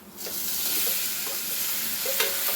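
Tomato chutney with salt fries in a pan, giving a continuous soft sizzle with light scraping from stirring and a brief brighter clink near the end.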